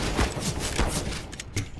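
Gunfire through a door in the video game CS GO, a quick burst of several sharp shots in rapid succession, close and loud with no talk.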